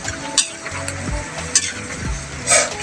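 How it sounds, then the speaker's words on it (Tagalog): Tree leaves stirred in a hot cooking pot give rough scraping strokes and crackling sizzle, with several distinct louder scrapes and clanks over a steady sputter. "Ito, kahoy. Dahon ng kahoy. Haluin natin."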